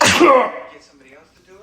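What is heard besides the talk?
sneeze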